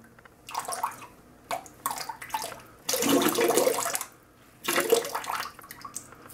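Simpson Chubby shaving brush with a 27 or 28 millimetre knot lifted out of water, giving repeated splashing, dripping bursts of water, one longer pour in the middle, close and fairly loud with no talk.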